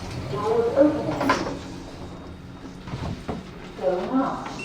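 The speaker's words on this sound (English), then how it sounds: "Lower ground floor. Doors opening." Lift doors slide open at a lower ground floor stop in a Stratford City shopping centre lift, a soft rumbling slide with light clunks, heard under a recorded announcement voice.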